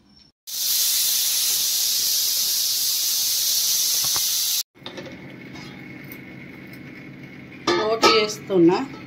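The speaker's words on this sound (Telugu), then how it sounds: "బోటి ఫ్రై చేస్తున్నా" Goat tripe (boti) dropped into hot oil for deep frying gives a loud, steady sizzling hiss for about four seconds, then cuts to quieter background noise with a voice speaking near the end.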